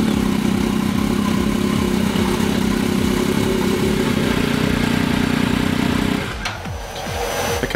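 Turbocharged Yamaha MT-09 motorcycle engine running at idle, a steady loud droning hum that holds for about six seconds before cutting back to a quieter, rougher tone.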